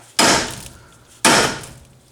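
A hammer hits a rusted car suspension ball joint twice, about a second apart. Each blow is a sharp, loud, close metallic crack that rings briefly and then fades, with no speech.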